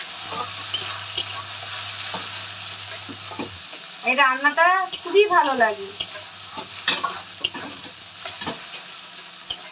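Soaked Gobindobhog rice is stirred in hot oil in a pan, with a steady sizzle and the scrape of stirring, while a person talks briefly in the middle.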